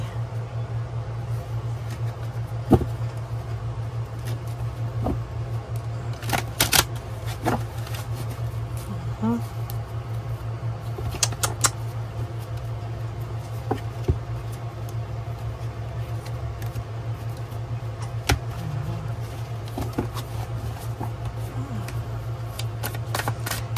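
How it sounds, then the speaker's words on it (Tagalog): Cards riffle and snap in repeated short bursts over a constant low hum, the crisp flutters coming irregularly and close by. "Balasahin lang po natin saglit."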